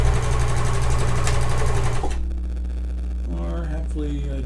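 A sewing machine runs fast and loud in a steady mechanical whirr for about two seconds, then stops, leaving a low hum and a faint whining tone.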